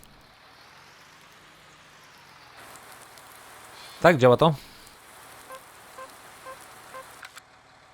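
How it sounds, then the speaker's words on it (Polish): Steady soft rain patter in the video game Farming Simulator 19 runs throughout, with a brief burst of talk in the middle and a few faint clicks afterward. "Też pada deszcz"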